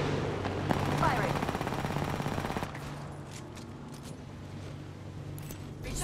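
Automatic gunfire in the video game Apex Legends, a rapid burst of close, loud shots lasting about two seconds, followed by quieter ambient game sounds.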